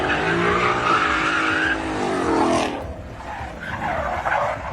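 A car drifting with its tires skidding and squealing, the loud screech sustained for about three seconds and then picking up again after a brief dip.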